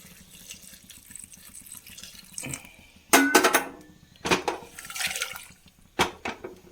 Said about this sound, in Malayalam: നമുക്ക് ആവശ്യത്തിന് വെള്ളം ഒഴിച്ച് കൊടുക്കാം ചൂടുവെള്ളമാണ്